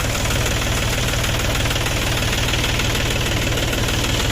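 A tractor engine runs steadily with a constant, loud throbbing idle and a knocking rumble that never changes, with no voices.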